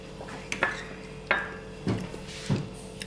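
A spoon scoops cold-mix berry cheesecake mixture onto the top in a dish, giving four separate close clinks against the dish spaced about half a second apart, with quiet scraping between them and no talking.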